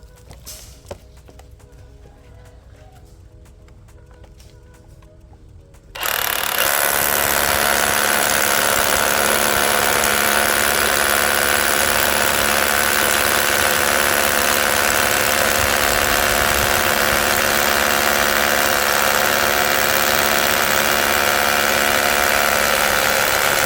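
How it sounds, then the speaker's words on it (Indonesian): A Bosch GBH187Li cordless brushless rotary hammer drills vertically with a long 13 mm bit: after a few seconds of quiet handling clicks, the tool starts abruptly and hammers loudly and steadily with a dense, rattling roar until the end. "Sekarang kita akan mengebor secara vertikal ya. Di sini mata bornya saya pakai yang lebih besar lagi, ukuran 13 mili."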